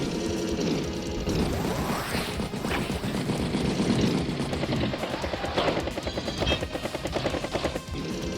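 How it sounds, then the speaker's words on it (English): Bomber aircraft strike on a Neo-tank in Advance Wars: a dense, continuous rumble of engine drone and rapid rattling bursts of fire, loud and sustained throughout with no voices. "Bomber does strike the Neo-tank there."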